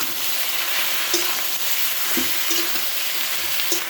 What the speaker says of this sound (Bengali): দিয়ে দিচ্ছি চালটা থেতো করাটা, ভালো করে মিশিয়ে নিচ্ছি।